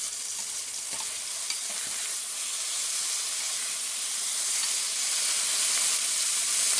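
Meat pieces fry in a hot pan, a steady close hiss and sizzle with faint occasional crackles, continuous and even, with no talking.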